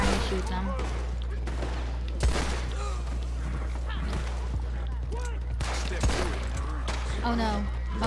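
Gunfire crackles in the video game Red Dead Redemption 2, a couple of sharp shot bursts standing out against busy background game noise.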